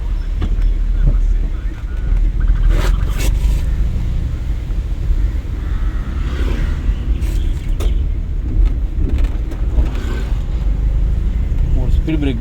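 A car drives steadily in third gear during a driving lesson, with a constant engine and road rumble and wind noise while an instructor talks over it throughout.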